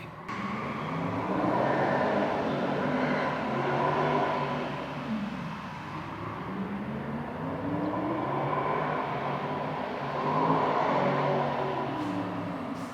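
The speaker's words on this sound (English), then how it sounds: "Ooh, somebody's doing a burnout." Car doing a burnout outside a car shop, a loud sustained engine roar with rising and falling revs and tyre noise, heard from some distance, continuous for several seconds.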